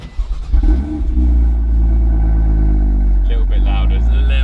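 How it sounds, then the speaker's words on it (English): A BMW M240i or M2 engine turns over and catches, then settles into a loud, deep, steady rumble that rises briefly as it revs, with voices talking over it. "let's get the car going and the aircon on"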